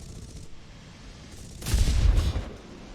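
A short, dense burst of rapid aircraft cannon fire in War Thunder rises out of a steady low rumble, loud for about a second, with no talking.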